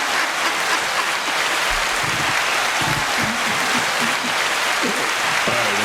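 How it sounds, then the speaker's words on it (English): Studio audience applauding and cheering for a guest's entrance on a talk show, steady dense clapping throughout with a few whoops rising over the noise. "More applause. More applause."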